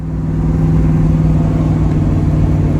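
A car engine runs steadily with a loud mid-pitched drone while driving in traffic after warming up to temperature, the tone holding constant throughout with no voices.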